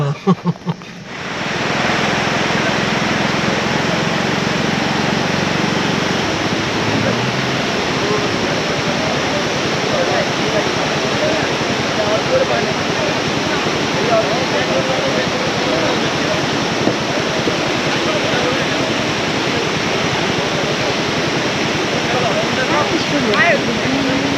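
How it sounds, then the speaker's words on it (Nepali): A loud, continuous roar of rushing water from a mountain waterfall beside the Pokhara–Mustang road in Nepal, broad and steady, with a low hum at the start that fades out. "हो यो झर्ना"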